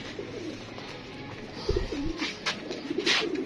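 Pigeons cooing close by in a loft, soft repeated throaty coos overlapping one another, with light rustling in the background.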